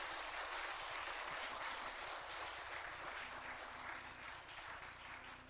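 A church congregation applauds together, a dense, steady wash of clapping that is faint and distant throughout and tapers off slightly at the end.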